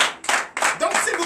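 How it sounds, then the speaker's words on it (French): Church congregation applauding during a Sunday worship service, two or three bursts of clapping close by, mixed with some voices. "Donnez l'acclamation"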